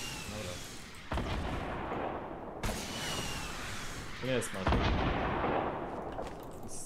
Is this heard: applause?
no